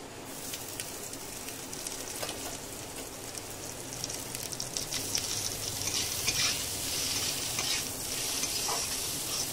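Fried onions and dried chilies stirred in a hot pan of oil with greens, a continuous loud sizzle and frying hiss broken by scraping strokes of a spatula, close up with no talking.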